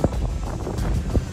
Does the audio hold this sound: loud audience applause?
no